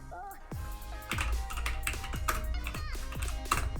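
Keys tapped on a computer keyboard while writing HTML and CSS code, a quick irregular run of close clicks and taps, with a faint bright ping mixed in.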